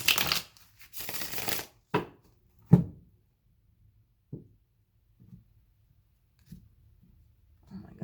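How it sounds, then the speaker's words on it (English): Several bursts of tarot cards being shuffled and riffled close by, followed by a few soft taps and quiet handling sounds. "one more shuffle and then I'll cut for Taurus."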